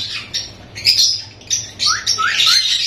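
A pet parrot gives a quick series of sharp, close chirps and squawks, some rising in pitch, with no talking.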